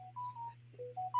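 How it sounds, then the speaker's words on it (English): A phone plays a quick run of short electronic notification tones at different pitches over a steady low background hum, with no talk. "sorry, my phone is freaking out."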